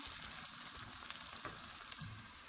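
Onions turning golden brown in a pan, a soft, even sizzle at low volume with faint stirring clicks throughout.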